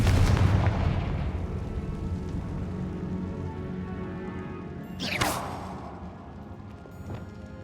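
A Confringo blasting spell goes off in Hogwarts Legacy, a sharp bright crack and burst about midway through that rises out of a continuous rumbling game background and then fades, with a softer hit near the end.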